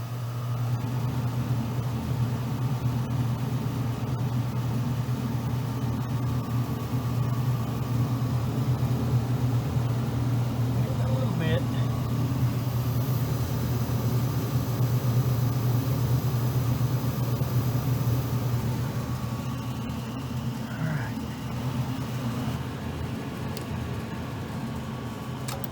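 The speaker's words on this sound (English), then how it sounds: "Here comes the blower." An old gas furnace blower runs steadily, a loud, continuous low hum and airy rush holding level throughout with faint intermittent clicks and rattles.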